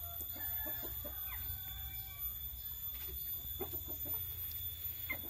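A Pelung hen in a free-range pen clucks repeatedly as she prepares to lay eggs, short throaty calls repeating at close range over a low background hum, with other fowl faintly audible.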